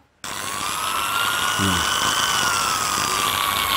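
An angle grinder spun slowly through a dimmer speed controller gives a steady, fairly loud motor whine that starts abruptly and holds constant, with a brief low knock partway through.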